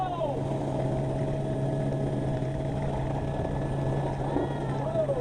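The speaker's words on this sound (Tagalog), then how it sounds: "Tapos sabay tagilid nung helicopter." A helicopter touring over Honolulu, its steady rotor and engine drone filling the cabin throughout, with a constant low hum and whine, while voices talk over it.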